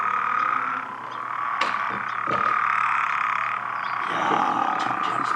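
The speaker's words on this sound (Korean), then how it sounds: "프로그 종류들인 거 아니에요? 개구리요." Frogs croak in a continuous chorus, loud and close, with a few sharper pulses rising out of the steady calling and no one speaking.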